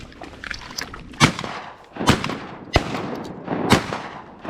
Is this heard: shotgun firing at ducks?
yes